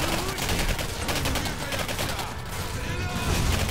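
Sustained rapid gunfire from a weapon in the shooter game Singularity, a dense, loud, continuous automatic burst filling the whole stretch without pause.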